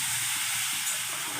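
Tomatoes fry in a pan with a steady, close, broadband sizzle that holds evenly for the whole moment.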